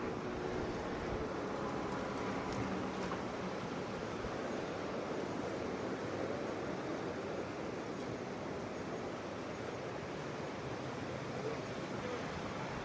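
Continuous rushing river water at the Boise Wave, a man-made river surf wave in Boise, Idaho, steady broadband roar close by and unbroken for the whole stretch, with no voices over it.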